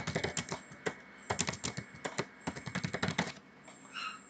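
Rapid keystrokes patter on a computer keyboard in irregular bursts, close up and crisp, with brief pauses between runs of typing.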